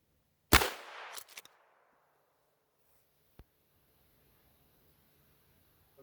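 Outdoor gunshots from a 12 gauge shotgun and a 45-70 rifle: one loud sharp blast with a brief decaying echo, a quick faint follow-up crack, then a distant lone report a few seconds later amid quiet.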